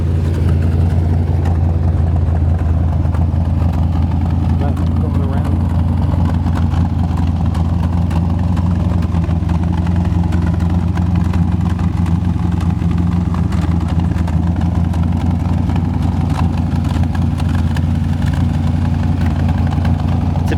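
A 1973 Corvette with a 496 stroker engine, four-speed, sitting at idle: a loud, steady, close rumble with even low-pitched pulsing throughout and no talking.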